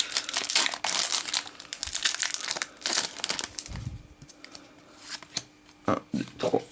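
A Pokémon Fulguris booster pack wrapper is crinkled and torn open by hand close up, giving a run of sharp crackling and rustling bursts with short pauses between them.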